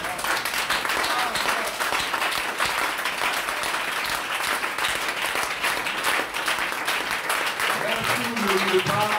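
Church congregation applauding in steady, dense clapping that fills the whole stretch, with voices mixed in beneath the applause.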